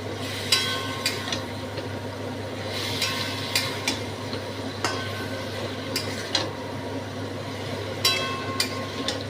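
Potatoes frying with cumin and spices in a pan over high heat for an okra and potato curry, a steady low sizzle with repeated sharp clinks of a utensil stirring against the pan.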